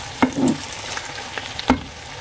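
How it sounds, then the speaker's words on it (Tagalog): Chicken with garlic and onion being stirred in a frying pan, with two sharp utensil scrapes against the pan over a soft, steady sizzle. "So haluin lang natin guys para ma-mix together siya"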